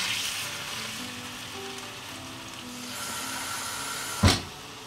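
Water poured into a hot pan while cooking çökertme kebabı, a Turkish dish: a steady soft hiss and sizzle throughout, with a single sharp clunk near the end.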